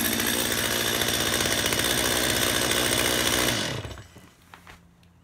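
A warmed-up chainsaw engine idles close and loud with a steady buzzing putter for about three and a half seconds, then is shut off and dies away into quiet with a few small knocks.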